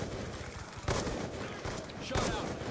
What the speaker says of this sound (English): Keep shooting, just keep shooting!